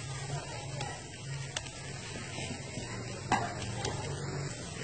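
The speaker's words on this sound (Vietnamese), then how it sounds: "Các bạn chiên vàng cho mình lên nhé." Crispy fried instant noodles, pressed into a cake, sizzle in hot oil until golden, a soft steady hiss with occasional light clinks of a utensil against the pan.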